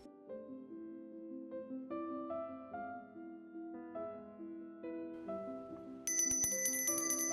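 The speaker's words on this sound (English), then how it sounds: "they would ring a bell on the table so the plates could be taken away" Small handbell rung at a Victorian-style dinner table, a run of clear metallic rings in a steady repeating pattern, growing brighter and more insistent toward the end, with no talking.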